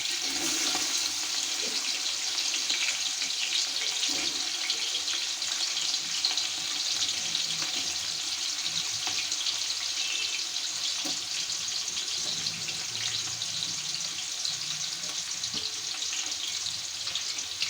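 Chopped onion sizzles in hot oil in a pan while being fried for upma, a steady, even crackling hiss that holds for the whole stretch with no one talking.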